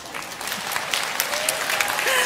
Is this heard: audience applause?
yes